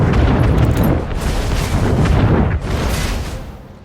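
Navy warships opening fire together in Anno 1800, a loud, continuous barrage of booming cannon blasts that roll into one another in heavy waves.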